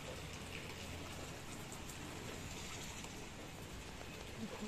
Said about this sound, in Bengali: বাইরে এখন ভালোই বৃষ্টি পড়ছে